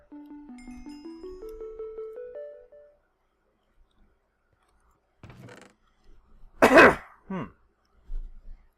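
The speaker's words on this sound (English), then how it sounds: "I need to, like, move away from my mic when I'm gonna cough." A sharp, loud cough lands right against the microphone during a Minecraft modpack gaming session, followed by a shorter second burst, after an earlier rising tonal hum and a faint rustle in otherwise quiet surroundings.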